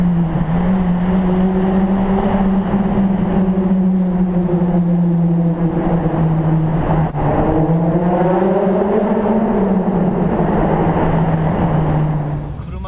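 A Honda Civic Type R FD2 with a VTEC engine accelerates hard, its engine note droning loud and close from the cabin, with a brief shift dip midway before it climbs again. People talk over the engine.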